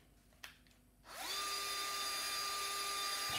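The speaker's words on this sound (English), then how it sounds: "It's a drill for doing DIY." After a faint knock, a power drill whirs up and runs at a steady high-pitched whine, close and continuous.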